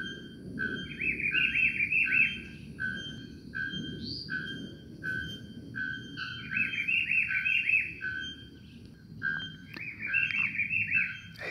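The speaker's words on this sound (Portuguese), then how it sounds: "Mas dá pra ouvir o canto dele." A rufous-browed peppershrike repeats a bright, warbling phrase several times at a steady pace, fairly distant, with a low rumbling background.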